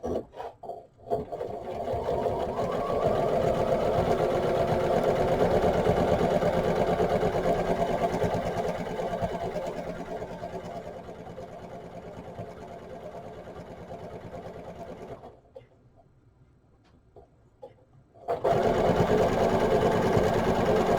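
A sewing machine stitches pieces of a Christmas tree quilt in long steady runs of rapid whirring, close and loud, stopping briefly with a quiet pause before starting up again.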